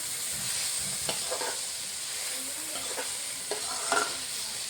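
Ginger and garlic fry in a pan at the start of fried rice, making a steady close sizzle with a few scrapes and stirs of a utensil.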